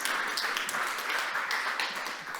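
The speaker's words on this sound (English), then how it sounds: "Big applause." A summit audience applauding a startup CEO as he walks on stage at an energy tech event; continuous, dense clapping from a crowd, even in level throughout, with no speech over it.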